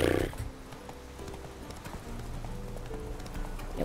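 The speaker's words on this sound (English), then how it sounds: "I don't even know why I'm gonna try to ride this horse." A horse gallops in the video game The Witcher 3: Wild Hunt, its hooves clip-clopping in a steady, rapid rhythm against a rumbling in-game soundscape, fairly close and continuous.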